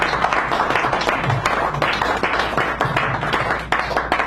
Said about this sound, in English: would you kindly give her a round of applause